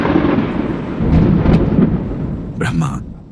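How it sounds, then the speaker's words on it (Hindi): A deep rumble of thunder from ominous clouds rolls loud and close, swelling and then fading, with a brief sharper crackle near the end. "आकाश में अशुभ बादल गरजने लगे।"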